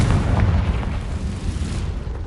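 A Confringo fire spell bursts in Hogwarts Legacy, a deep rumbling blast that holds steady and loud for a couple of seconds with no voices over it.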